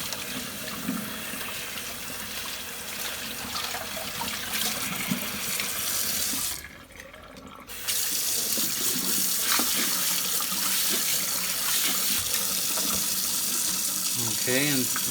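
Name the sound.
rinsing a vacuum cleaner bag under cold running water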